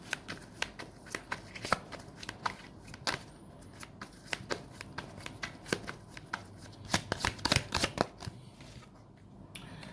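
Tarot cards being shuffled for a reading: a run of crisp riffling and flicking bursts, irregular and close, with short pauses between.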